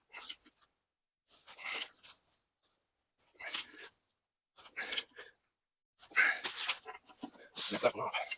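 Cutters snip something off during setup of a Mech Maxx SG24 stump grinder, giving several short, sharp bursts spaced irregularly across the clip, fairly close and with no voices.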